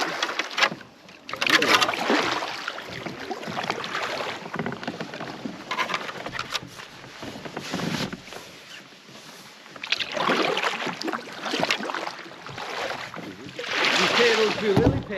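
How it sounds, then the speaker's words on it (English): A canoe paddled through swamp grasses in high water, with brushing, swishing strokes and rustling vegetation against the hull, fairly close, among breezy outdoor noise and occasional voices. "have you paddled through the grasses of the swamp?"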